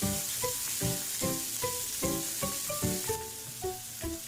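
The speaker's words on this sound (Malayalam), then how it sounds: "ചൂടായ എണ്ണയിലേക്ക് വെളുത്തുള്ളിയും ഇഞ്ചിയും അരിഞ്ഞത് ചേർത്ത് കൊടുക്കാം ഒന്ന് മൂത്ത് വന്ന ശേഷം സവാളയും പച്ചമുളകും ചേർക്കാം" Chopped garlic, ginger, onion and green chilli fry in hot oil, a bright, steady sizzle broken by rhythmic stirring strokes, close up with no voices.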